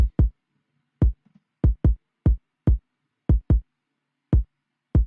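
A deep, punchy kick drum sample for a beat thumps alone in a syncopated pattern, often in quick pairs, each hit short with a booming low tail.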